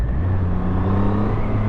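A motorcycle engine drones at steady speed in sixth gear, a loud low hum with constant vibration heard up close while riding.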